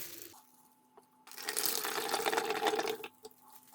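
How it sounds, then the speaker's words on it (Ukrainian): Lukewarm filtered water pours into a small bottle in one steady, close stream lasting under two seconds, with quiet room tone before and after. "Далі я наливаю чистої фільтрованої води, ледь тепленької, десь на 2-3 см в пляшечку."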